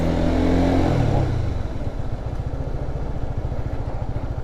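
Motorcycle moving off from a stop: a loud engine revs under throttle as the clutch is released, then settles into a steady low, pulsing chug as the bike pulls away, close to the listener.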